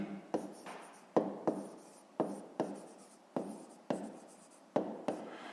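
A pen writes a math answer on paper, up close, in a series of quick scratchy strokes with short pauses between them.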